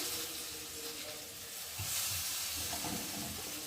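Soybean chunks sautéing in a pan for a vegetarian curry, a close, steady sizzle and hiss with a few soft scraping stirs underneath.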